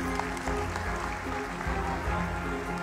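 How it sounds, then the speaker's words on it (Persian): Audience clapping for film director Hossein Rigi at an award ceremony honoring his film Miro, steady dense applause filling the room throughout with no break. "جناب آقای ریگی رو تشویق بفرمایید"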